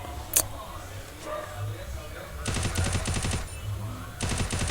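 Rapid automatic gunfire from the Free Fire video game, two dense bursts of repeated shots, the first longer and the second starting near the end, loud over a low steady game background with a sharp click early on.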